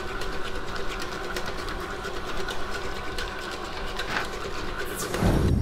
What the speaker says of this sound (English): we're going to put them into our mixer and then mix them together